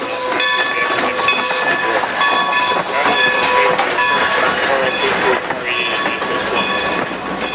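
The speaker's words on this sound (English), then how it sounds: "Train number 120, the Lehman Place Limited, is now arriving at track number 2." A Strasburg Rail Road passenger train pulls into the station, with a steady loud hiss of steam and rumbling wagons throughout and a high whistle-like tone near the end, heard close up with no clear talk.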